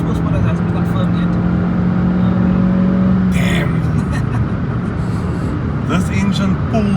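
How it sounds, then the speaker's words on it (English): A Suzuki Swift Sport engine accelerates hard, a loud continuous drone climbing in pitch with a steady rising tone, heard from inside the car as someone briefly speaks over it. "This engine pulls, guys, like you will not. More than enough power."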